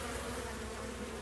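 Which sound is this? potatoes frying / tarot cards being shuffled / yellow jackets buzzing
yellow jackets buzzing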